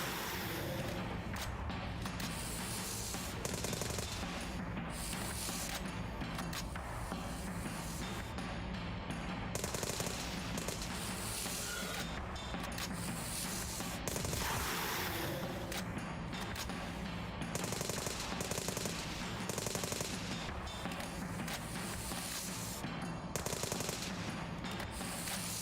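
A turret machine gun in a dino horror video game rattles in long, dense sustained bursts, loud and close, with brief pauses and game noise mixed in.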